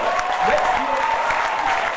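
An audience at a debating championship final claps steadily in a dense, continuous burst of applause, with a voice speaking over it.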